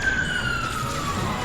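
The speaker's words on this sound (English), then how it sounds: "Sorry for the sirens going on in the background." Emergency vehicle siren wailing in the background, a single steady tone slowly falling in pitch, moderately loud and alone.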